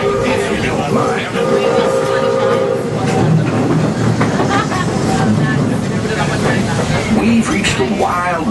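Railway train running on its rails at Magic Kingdom, Walt Disney World, giving a continuous rumble and clatter with some squeal throughout, and voices mixed in with the noise.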